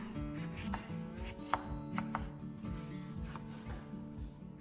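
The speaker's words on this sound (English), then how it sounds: "Then cut some of them into thin slices or small pieces." A knife chops lemons into thin slices on a cutting board, giving a run of crisp, close taps and thumps at an uneven pace, with no voices.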